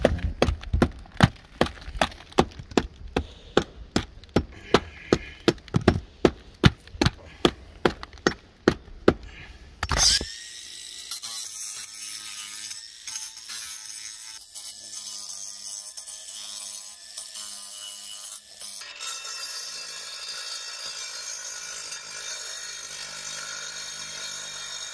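A grinder cutting stone on a chimney, a sustained harsh whine that starts abruptly after a run of evenly spaced sharp knocks and continues loud and steady to the end.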